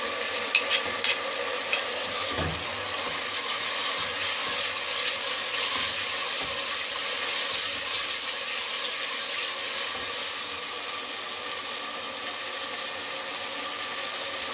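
Garlic and ginger paste fries with tomato paste in a pan, giving a steady, even sizzle that runs the whole time, with a couple of faint knocks near the start and no voices.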